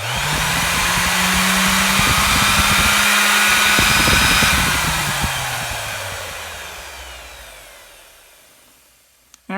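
A repaired electric palm sander with a newly replaced cord runs loud and steady for several seconds with a whining motor hum, then winds down and fades as it is switched off.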